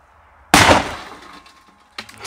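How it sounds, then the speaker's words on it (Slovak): A wooden hazelwood firecracker of about five grams bursts inside a washing machine drawer with one sudden, loud crack that decays into rattling debris, then a second sharp impact near the end. "na to, že drevená petarda, tak nádherný výbuch a práčku to poriadne porobilo"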